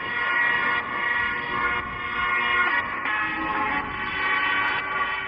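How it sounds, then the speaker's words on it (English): Steady rumble and hiss of a high-speed rail station in Shenzhen, a dense continuous wash of train and crowd noise with no clear speech, holding at an even level throughout. "we headed to the biggest train station any of us had ever been in, Shenzhen, which is a high-speed rail station"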